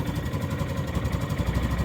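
A derelict John Deere Gator utility vehicle's engine idles with a steady, rough, low chugging rumble and a faint mechanical clatter, close and continuous.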